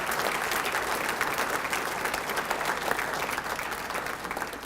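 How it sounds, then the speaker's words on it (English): An audience at the Indiana State Hall of Fame ceremony gives the 27th induction class a long, full round of applause. The dense clapping stays steady and fairly loud and eases off slightly toward the end. "Ladies and gentlemen, how about one more big round of applause for our 27th class into the Hall of"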